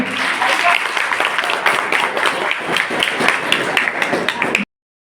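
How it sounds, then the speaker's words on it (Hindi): A school audience applauds students at a police and postal career guidance programme, dense steady clapping filling the hall loudly with a few voices mixed in, then cutting off abruptly. "इन बच्चों को जरूर तालियां बजाएं।"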